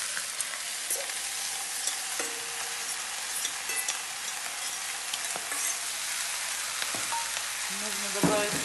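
Onion and carrot fry in a pan for chicken plov, making a steady close sizzle throughout with occasional soft scrapes and ticks from stirring.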